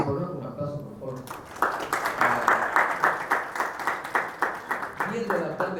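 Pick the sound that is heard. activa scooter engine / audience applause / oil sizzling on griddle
audience applause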